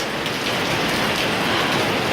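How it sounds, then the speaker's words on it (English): Steady rain pours with gusting wind on an open apartment balcony in Taipei, Taiwan, a dense even hiss of drops striking the floor and railing, close and loud throughout with no talk. "It's raining, and the wind is kind of blowing, so the water's getting over here."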